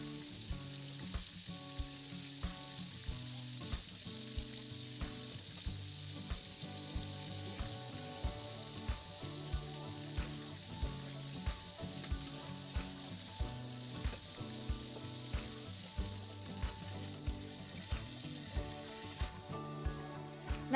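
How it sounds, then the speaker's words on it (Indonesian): Washed ingredients for pecel lele sauce frying in hot oil, a steady close sizzle with regular soft stirring knocks and faint background music, no talking. "Langsung aja dimasukkan sampai kita goreng sampai matang, sampai dia agak layu gitu."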